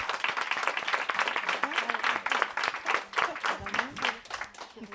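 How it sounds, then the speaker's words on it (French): Audience applause at a French early-childhood week event hosted by a family benefits office, a dense patter of many hands clapping steadily for about five seconds with some voices and chatter mixed underneath. "Je vous propose qu'on applaudisse nos intervenants et intervenantes."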